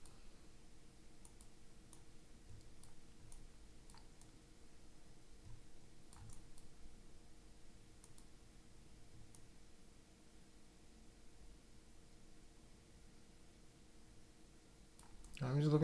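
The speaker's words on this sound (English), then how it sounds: "I'm just using my mouse and keyboard." Computer mouse and keyboard clicking at a desk during a ZBrush sculpting session, with sparse light clicks and taps scattered over a quiet background hum, fairly faint and close.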